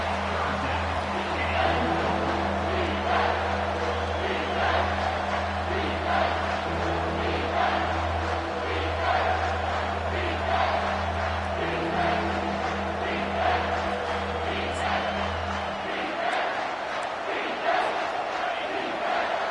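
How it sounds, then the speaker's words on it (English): A big football stadium crowd roars steadily during a tense goal-line stand between Oregon and Alabama, the dense, loud cheering sustained throughout with a low humming drone underneath that drops away near the end. "this big crowd doing everything possible to inspire this defense down here near the goal line"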